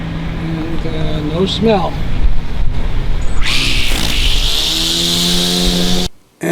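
A cordless electric weed whacker starts partway through, a sustained, buzzing whine that holds steady for a few seconds under a voice before cutting out near the end.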